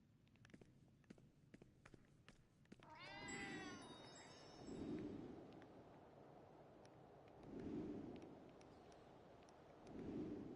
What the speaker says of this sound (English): You're a bad kitty.